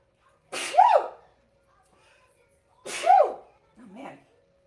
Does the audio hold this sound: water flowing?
no